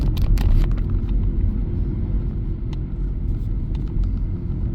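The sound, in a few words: car driving on road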